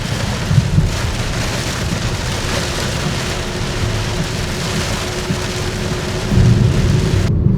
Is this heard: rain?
yes